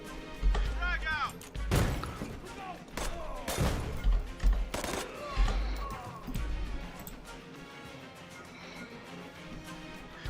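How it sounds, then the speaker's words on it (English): Frag grenade explosions in a tactical shooter video game, several heavy booms and thuds scattered among gunfire, with a voice speaking over the action between blasts. "Throwing frag. We're just gonna lead with explosives."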